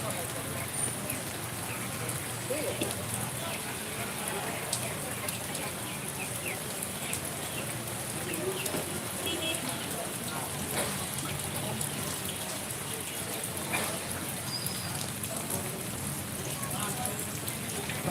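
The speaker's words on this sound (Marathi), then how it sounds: "मातपुते शहरात अचानक आलेल्या पावसामुळे या ठिकाणी जनजीवन विस्कळीत झालेलं आहे" Sudden unseasonal rain falls on a town, a steady, even patter and hiss of drops on surfaces that continues evenly throughout at moderate level.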